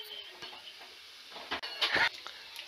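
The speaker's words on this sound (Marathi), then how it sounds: "आता यामध्ये आपण जिरं टाकून घेऊ एक चमचा" A spoonful of cumin seeds dropped into hot oil in a pan for stuffed brinjal masala, giving a soft crackling sizzle that swells into a brief louder hiss near the end, close and without talk.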